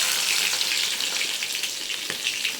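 Chopped shallots hit hot oil in a curry pan where mustard seeds are already spluttering, giving a continuous close sizzle with a faint pop or two and no voices.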